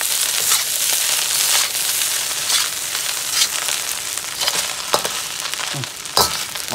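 Hong Kong style shrimp fried rice is stir-fried and tossed in a hot pan, giving a continuous loud sizzle with scraping and stirring bursts close up, with no speech.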